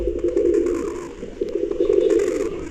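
Pigeons coo at a nest holding eggs, a low steady murmuring call that swells and fades over a few seconds, close by and without talk.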